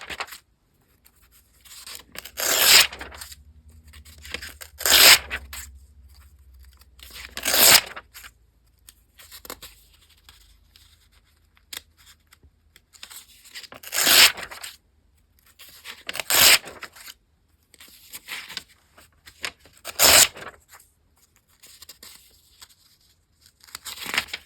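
Pages being torn out of a composition notebook in a series of sharp ripping bursts, about eight separate tears spaced a few seconds apart, close and fairly loud with quiet gaps between.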